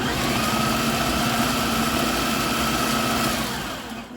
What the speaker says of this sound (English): It's chopping it all up.